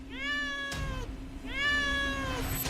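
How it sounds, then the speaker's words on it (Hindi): A cat meows twice, close and clear, each call drawn out and wavering, with a faint steady hum underneath. "कमरे में बार बार गूंजती बिल्ली की आवाजें"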